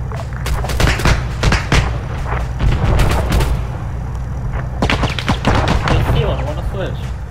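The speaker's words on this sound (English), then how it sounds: "GPMG is going to engage a bunch of stuff in the front" A GPMG machine gun fires in a military video game amid loud repeated gunshots and booming blasts, dense and continuous, with voices talking over the combat.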